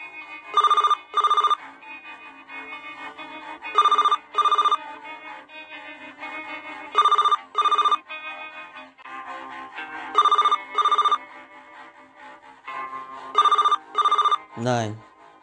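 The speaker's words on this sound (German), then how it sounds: "Ein Telefon." A telephone rings in regular paired electronic bursts, repeating about five times at steady intervals, with quiet background sound between rings and a brief sweeping tone at the end.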